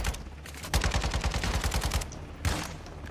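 An AK-style rifle fires in Call of Duty: Modern Warfare 2, with a loud, close, rapid automatic burst of about two seconds followed by another short burst.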